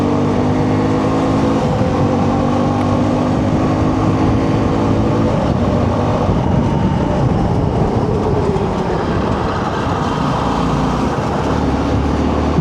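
An Xtreme 125 motorcycle riding fast, heard as a loud, steady roar of engine and road noise that continues unbroken throughout.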